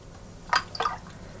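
Rainwater trickles onto crushed woad leaf balls set to ferment, two small quiet splashes a moment apart over a faint hush.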